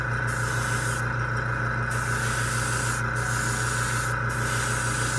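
AK Real Colour lacquer acrylic paint is sprayed in a steady, close hiss, broken by a few short pauses between light passes.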